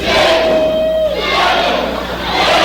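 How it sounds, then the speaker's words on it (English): A wrestling crowd shouts a count together in loud rhythmic unison chants during a match, the whole arena roaring near and continuously, with a whistle-like tone briefly cutting through. "the crowd is counting out the times that Rob Stardom's head has bounced off those turnbuckles"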